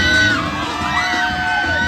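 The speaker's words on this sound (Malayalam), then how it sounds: "ഇനി നമ്മൾ ആ ഒരു അലറി വിളി." A group of riders on a fast amusement park ride at Wonderla in Bangalore screams and whoops together, loud, close and continuous, with overlapping shouting voices throughout.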